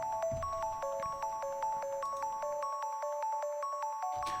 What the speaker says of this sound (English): It's basically just a square sounding pluck with some distortion.